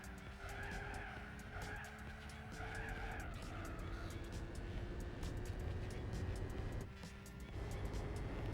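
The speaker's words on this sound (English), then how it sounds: "CMS spun out" Race car tires skid and squeal as the car spins out in Gran Turismo 4, a long screeching slide over steady engine roar, close and loud throughout.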